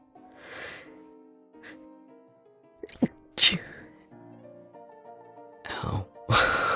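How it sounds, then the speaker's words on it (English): A person sneezes forcefully several times, sharp bursts separated by gasps, sighs and breathy sounds, close and loud. "I hate when you can feel your sneeze in your brain"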